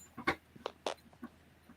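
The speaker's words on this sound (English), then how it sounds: "Excuse me, I got a sick puppy." A sick puppy whimpers in several short, high, thin whines spaced irregularly, close and fairly faint against a quiet room.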